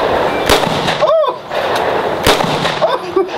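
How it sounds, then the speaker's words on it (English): AR-15 rifle shots fired outdoors, two sharp, loud cracks about two seconds apart, with brief voices in between. "What are you shooting at?"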